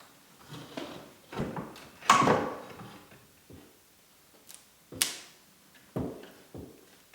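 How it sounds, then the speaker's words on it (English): A door jamb being loosened in a garage repair produces scattered knocks, taps and wooden clicks at irregular intervals, close and moderately loud, with no talk. "I'm going to make sure that the door jamb itself is loose so that we can move it up and down."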